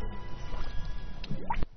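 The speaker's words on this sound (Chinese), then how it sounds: "泥浆由中部向四周翻腾滚动，并发出咕嘟咕嘟的响声" Thick boiling mud churning in the open crater of a mud volcano gives off close, wet bubbling and gurgling pops that overlap in a continuous stream for under two seconds.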